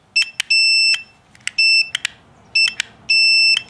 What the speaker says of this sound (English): So what we're looking for is a beep sound when we hit the switch in both directions.